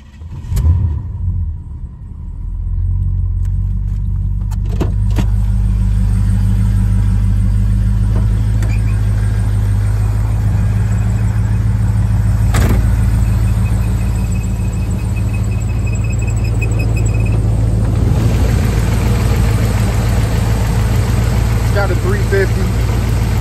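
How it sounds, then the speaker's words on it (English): A 1988 Chevrolet Monte Carlo SS, its original 305 V8 replaced, starts up and settles into a steady, loud, close-up idle with a deep low rumble that runs unbroken to the end. "let's get a quick running video of this car"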